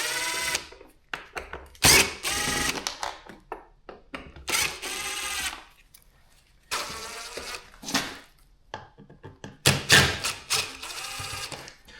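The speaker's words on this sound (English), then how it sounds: "all we need to do is take off these stainless steel screws the whole way around the frame of this plastic cover" A power drill backs stainless steel screws out of the frame of a plastic cover in short bursts of whirring, several runs separated by quiet pauses and small handling clicks.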